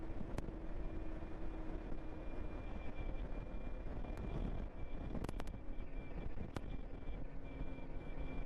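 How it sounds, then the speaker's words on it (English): Gusty wind at Rocky Point on Prince Edward Island buffets the microphone in a steady low roar with occasional sharp knocks and bumps, fairly faint overall and without talk. "It's windy today, really gusty."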